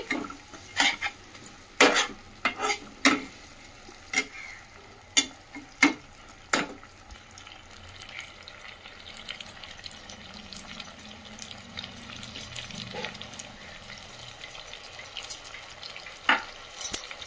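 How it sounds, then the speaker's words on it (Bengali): Sizzling from a pan of onion paste and spices runs softly throughout, punctuated by sharp clacks of a utensil stirring and scraping, several in quick succession, then quieter frying. "তো আমি এটাকে আরও ভালো করে এর সঙ্গে ভেজে নিচ্ছি।"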